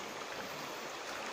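Steady broadband rush of a river flowing toward the Alas Ketonggo forest, fed from Mount Lawu, a continuous even wash of moving water with no voices.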